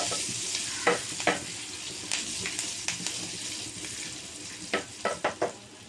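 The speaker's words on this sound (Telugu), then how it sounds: "కొంచెం ఫ్రై అవ్వాలి." Tempering sizzles steadily in a pan, with a few sharp crackles and spatters popping out near the end; no voices.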